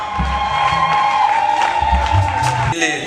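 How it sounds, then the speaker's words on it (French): Loud crowd at a day event for people with disabilities cheers and whoops with some clapping, a sustained tone ringing beneath the noise. "elle mérite plus d'applaudissements, plus d'applaudissements"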